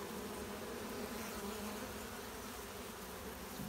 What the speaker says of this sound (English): I see some bees up here fanning.